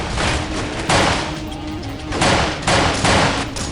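Rapid bursts of gunfire from the video game Delta Force: Black Hawk Down, loud close volleys in several rolling clusters with brief gaps between them, no talking.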